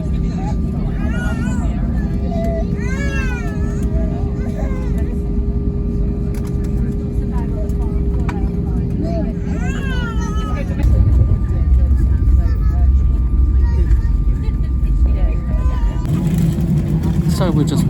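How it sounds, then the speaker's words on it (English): Airliner taxiing toward the runway at Paphos, Cyprus, heard from inside the cabin: a steady low engine drone with a constant hum, growing louder and rougher near the end, while a person talks over it throughout. "we're just taxiing now to the runway"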